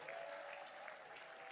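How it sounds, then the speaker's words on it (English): Sustained applause from an audience at an awards ceremony in Manchester, a steady dense wash of many hands clapping, heard faintly and evenly as if from a distance, with no talk over it. "You're not done clapping yet. Keep going."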